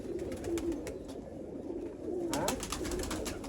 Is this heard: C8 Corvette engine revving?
no